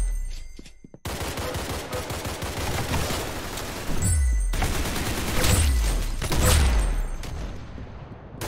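Rapid bursts of gunfire in the Roblox game Arsenal, loud close volleys of shots with heavy low booms around the four-, five- and six-second marks, separated by brief pauses, no voices.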